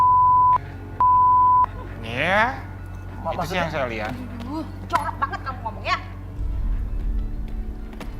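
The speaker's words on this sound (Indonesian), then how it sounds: "Itu ada telepon bunyi." A telephone rings with two steady electronic tones at the start, followed by people talking in a conversation.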